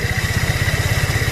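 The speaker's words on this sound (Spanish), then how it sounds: "que el motor incrementa las revoluciones" Motorcycle engine idling close by after its carburetor mixture screw is opened half a turn, a steady, even, low pulsing throb with no pauses.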